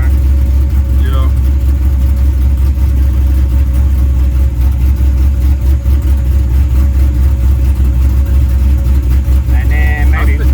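Impala SS V8 with an aftermarket cam idling with a loping chop, a loud, constant low rumble close by, with brief voices over it near the start and end.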